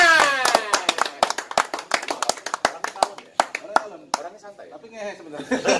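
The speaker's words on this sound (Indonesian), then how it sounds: "Tepuk tangannya." An indoor audience bursts into a quick run of sharp, close hand claps mixed with chuckles and laughter, while a voice talks over the applause.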